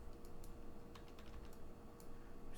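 Keys pressed on a calculator: a handful of faint, separate taps spread over a couple of seconds, sitting under a steady low background hum.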